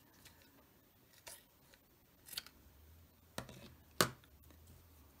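Scissors cutting a paper blouse shape, quiet isolated snips and paper rustles, four or five distinct cuts spaced a second or so apart, close and faint with no talking.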